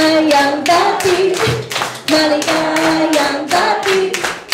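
Rhythmic group hand clapping keeps time with a sung Filipino birthday greeting, the claps steady and close over several voices singing together throughout.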